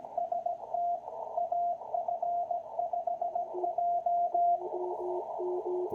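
Steady Morse code tones keyed in quick dots and dashes at about 18 words per minute, sending SST and call sign AF5J, a clean sidetone beeping over faint radio hiss, with a lower second signal joining near the end.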